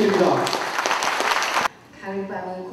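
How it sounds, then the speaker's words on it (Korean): Audience applause welcoming speakers at a Buddhist news outlet's sixth anniversary ceremony, a dense burst of clapping that stops abruptly and gives way to soft background music. "여러분 그 어느 때보다도 뜨거운 환영의 박수 부탁드립니다."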